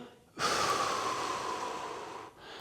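A single steady exhale through the mouth during a front squat breathing demonstration, close and fairly soft, lasting about two seconds with a breathy, airy hiss before cutting off.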